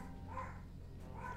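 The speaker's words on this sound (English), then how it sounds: "Pardon my dogs in the back." Several household dogs bark faintly in the background, two soft barks about a second apart at a distance, with no talking.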